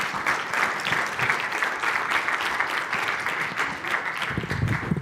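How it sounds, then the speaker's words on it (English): An audience at a keynote presentation claps continuously, a dense, even round of applause with no talk over it. "Round of applause for Ramy Nassar."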